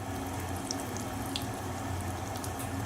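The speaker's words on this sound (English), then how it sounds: "once your oil heats up, we're going to slowly add our steaks in. Now you want it to bubble like that straight away." Country fried steaks lowered into hot frying oil give off a steady, dense sizzle that keeps going evenly through the whole stretch, with no voices over it.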